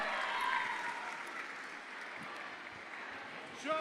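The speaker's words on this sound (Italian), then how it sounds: "L'applauso per Cristiano Del Rio" Audience applause welcoming a guest onstage at a live evening event in Ollolai, Sardinia, a steady wash of clapping that holds through the whole stretch at moderate level.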